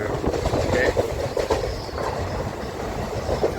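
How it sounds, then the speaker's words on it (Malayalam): A passenger train runs past with a loud rumble and rhythmic clatter of wheels on rails, with faint squeals, close and continuous. "ഇത് നമ്മളിന്ന് പോകുന്ന ട്രെയിനാണ്."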